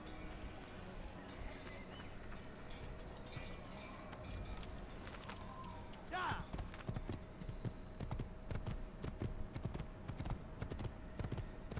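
Horse hooves clip-clop at a steady, brisk gait in the video game Assassin's Creed. The hoofbeats are close and rhythmic, with a short whinny partway through and the clopping growing louder and busier toward the end.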